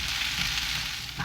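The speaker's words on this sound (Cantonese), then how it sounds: "就將啲蝦仁擺落去煎一煎，" Shelled shrimp sizzle in a tablespoon of hot oil in a wok over medium heat while preparing Singapore stir-fried rice noodles, a steady close hiss of frying with no talk.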